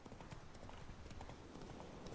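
A horse galloping in The Witcher 3 video game, a steady rapid drum of hoofbeats under a dense, noisy game soundscape, fairly faint and continuous.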